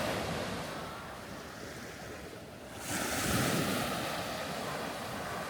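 Waves wash onto the shore of a west coast beach at sunset, a soft steady hiss that swells into a louder breaking surge partway through, with no voices.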